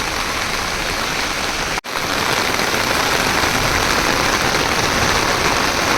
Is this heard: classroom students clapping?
no